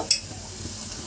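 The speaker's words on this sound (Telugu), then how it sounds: "ఇది వేసేటప్పుడు కూడా మరొకసారి ఇలా విదిలించి వేసి ఆయిల్లో" Chicken leg pieces frying in hot oil give a steady, close sizzling hiss, with a brief splash as a piece drops in near the start.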